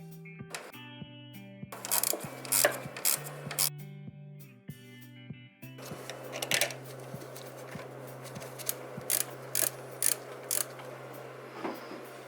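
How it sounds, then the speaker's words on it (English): A ratchet tightens the battery clamp bolt on a Volvo V40 Cross Country during a start-stop battery replacement, giving bursts of close metallic clicking and ratcheting separated by short pauses, with a steady low tone underneath. "Mount clamp in place and tighten that bolt."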